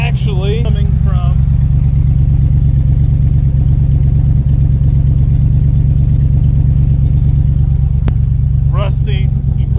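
A 1986 Dodge Ramcharger runs steadily with a low, droning engine and exhaust note and a faint rattle from its rusty exhaust system, close and continuous, while someone talks over it at the start and near the end.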